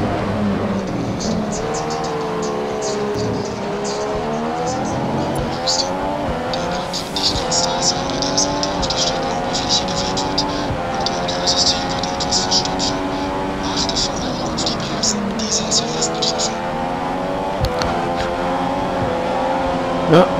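A Formula 1 car in the F1 2015 video game, practicing at Bahrain, howls steadily at high revs with rising and falling gear-change sweeps, loud and continuous throughout.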